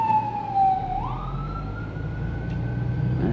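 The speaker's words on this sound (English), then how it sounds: "There's ambulances, police car, and I don't know, is that a fire truck down" A wailing emergency siren from police cars, ambulances and a fire truck sweeps down then rises and holds, heard at a distance over steady street rumble, with no talking.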